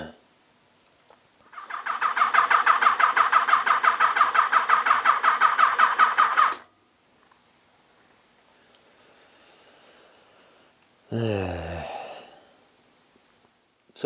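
Yamaha XJR1300 motorcycle engine cranking without firing, a loud rapid rhythmic starter churn lasting about five seconds, then quiet, then a brief whirring burst near the end.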